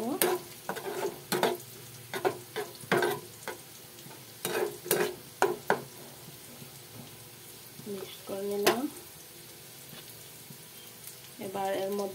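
A spoon stirs curry in a pan after water has been poured in, making repeated close scraping and sloshing strokes with a faint sizzle, and brief speech near the end.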